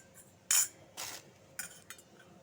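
A metal bowl used for payesh is being washed, with a few brief rinsing and scrubbing bursts and light metallic clinks, close up with short gaps between.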